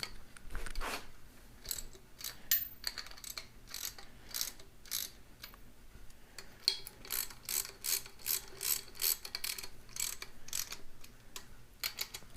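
A hand ratchet clicks in quick repeated strokes while bolts are snugged down on a Ford 9 inch rear end. The clicking comes close and fairly quiet in short rhythmic bursts.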